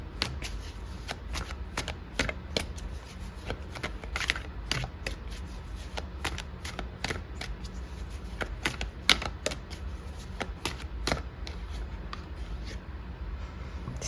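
Tarot cards shuffled by hand in a steady run of crisp riffles and snaps, close and fairly quiet, continuing throughout with no talking.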